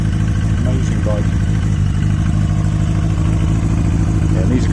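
A Yamaha Fazer motorcycle engine runs steadily at a low, even idle, loud and close throughout the short stretch, with no talk over it.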